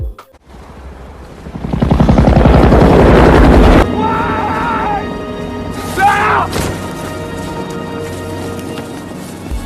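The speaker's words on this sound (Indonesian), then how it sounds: "tiba-tiba terdengar suara helikopter Basarnas yang sedang menyisir area tersebut" A search and rescue helicopter flies over a wilderness area in a film, its rotor chopping loud and rhythmic, swelling close then easing into a steadier drone with other scene sounds layered over it.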